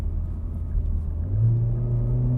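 A car, set up for fast road driving, pulls along a country road with a steady low engine rumble that swells as it accelerates, loud and close with no talk.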